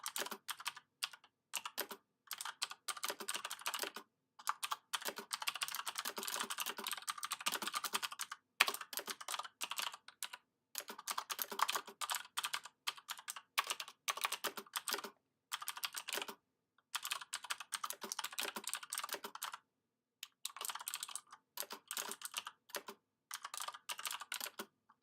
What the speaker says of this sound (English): okay, so I can type stuff there in the middle